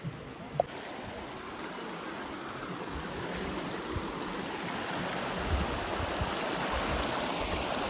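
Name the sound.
small river stream flowing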